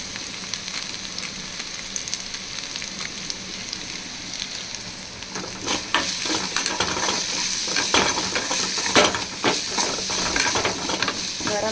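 Fish cutlet masala frying in a pan with garam masala powder, a steady sizzle that grows busier halfway through as it is stirred, with scraping and clinks of a spoon against the pan.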